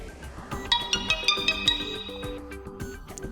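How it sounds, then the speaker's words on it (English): A phone's default notification ringtone on a CAT S40 plays as a short, bright melodic chime of quick plucked notes, clear and close, lasting about three seconds with no talking. "Here we can change default notification ringtone."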